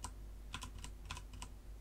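Keys clicking on a computer keyboard while square-bracket keys are pressed in a molecular graphics program, a quick uneven run of about eight crisp taps close by with no talking.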